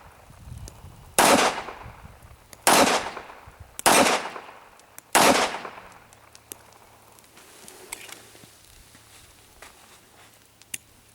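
Four loud, sharp pistol shots from a Springfield Armory 1911-A1 in .45 ACP ring out close by, spaced about a second and a half apart, each trailing a brief echo before the range falls quiet.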